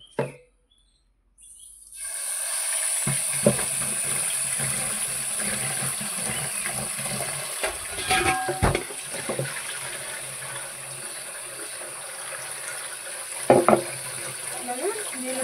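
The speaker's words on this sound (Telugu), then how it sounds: "ఈ ఉప్పు పసుపు వేసి కొంచెంసేపు ఇలా కలిపిన తర్వాత మనం కడిగేసుకోవచ్చండి" Tap water runs steadily onto raw prawns in a sink after a short silent start, a continuous close hiss of flowing water with occasional splashes and handling knocks as they are rinsed.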